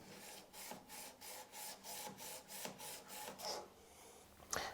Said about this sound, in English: So my preference would be to use a bench stone.